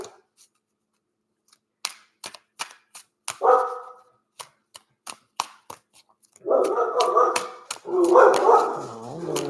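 A dog barks in repeated sharp yips, short bursts spaced irregularly, then a longer run of louder, harsher barking and whining toward the end, fairly close with no talk over it.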